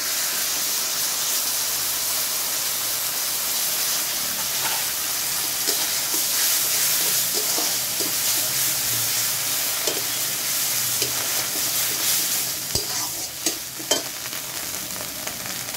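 Ground spice paste fries in a hot pan with a loud, steady hissing sizzle; a few sharp stirring scrapes and taps come near the end.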